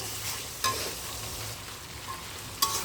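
Fried meat pieces tipped into a simmering spice masala for a boiler chicken curry, a steady soft sizzle broken by two sharp scraping stirs of a spatula against the pan.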